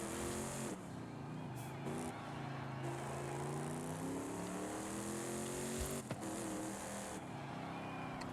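A Ford F-450 Super Duty truck drives hard in Forza Horizon 5, its engine note steady and close with rising and falling revs across gear changes, a brief thump near the end, a voice occasionally underneath.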